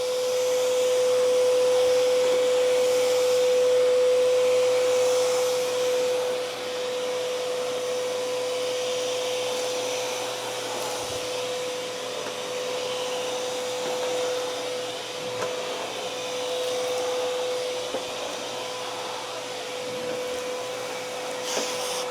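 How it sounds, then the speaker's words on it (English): A VEVOR pond vacuum cleaner sucks up shop dust with a continuous, loud airy motor roar and a steady tonal hum that hold evenly for over twenty seconds, with small dips in intake noise. "so I'm gonna use a vacuum to test it out."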